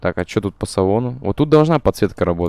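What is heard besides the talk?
No everyday noise stands out behind the speech.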